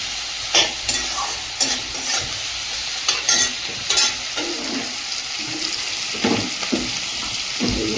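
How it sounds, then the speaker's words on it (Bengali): Onions frying in a pan with salt, a steady sizzle beneath repeated scraping, clattering strokes of a spoon stirring them at an irregular pace, nobody speaking. "পেঁয়াজটা ভালো করে ভেজে নেব"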